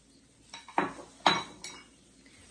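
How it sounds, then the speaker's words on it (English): Eggs and vanilla being stirred together in a bowl while making coffee cake: a few close, quiet clinks of a utensil against the bowl, spaced irregularly, with no talk. "I'm going to stir those together."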